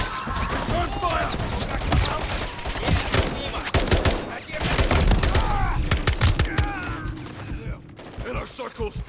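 Dense gunfire erupts in the Modern Warfare III video game, rapid bursts of automatic shots and sharp cracks, loud and close, with soldiers shouting over the firing.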